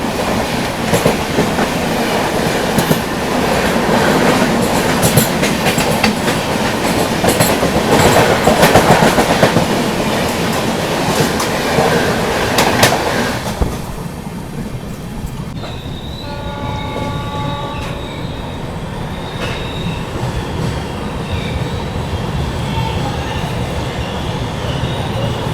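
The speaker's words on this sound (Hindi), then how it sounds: "बगल से क्रॉस हो रही है हावड़ा मुंबई मेल" A passing Howrah Mumbai Mail train roars by alongside another moving express, its wagons rattling loudly for about thirteen seconds before fading to steady rolling rail noise with brief wheel squeals.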